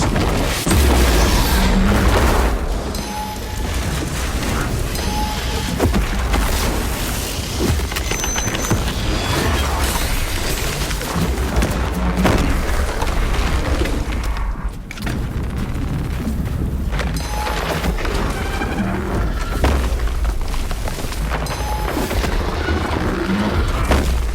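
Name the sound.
melta charge explosion in Warhammer 40000: Space Marine 2 video game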